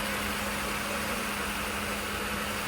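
The engine of a 1989 Mercedes-Benz 560SL idles close and steady, an even, smooth hum with a constant low drone and no talking.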